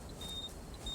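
A geophysics survey timer, used to pace walking at an Iron Age site in Cornwall, gives short, evenly spaced high beeps in a brief burst over quiet background hiss.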